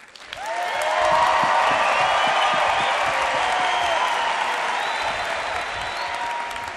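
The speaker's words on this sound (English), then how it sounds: "We're going to judge this by the loudness of your applause." An audience applauding to judge contestants at a live science event, a broad sustained roar of clapping that swells quickly and holds loud, with a few scattered whoops in the crowd.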